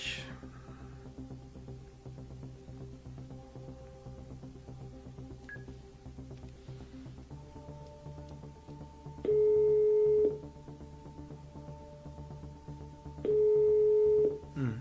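A phone call is placed, with a ringback tone sounding in two long steady beeps over a quiet room hum and faint background noise.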